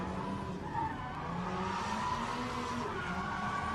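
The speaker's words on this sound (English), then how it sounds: "Screeching of tires as he comes past" Tires screech as a Nissan 350Z drifts past at a Red Bull car park drift event in Muscat, a steady loud squeal with engine roar throughout, heard from close by.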